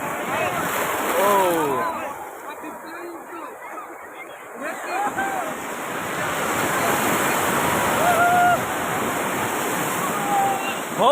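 Sea waves break on the beach at Puri in a continuous rushing roar that swells and fades, with voices audible over the surf.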